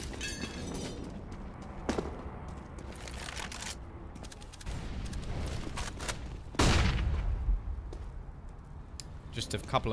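Scattered pistol shots and sharp bursts crack during a Counter-Strike match on the Overpass map, with one loud blast standing out, all under a fast, continuous commentator's voice.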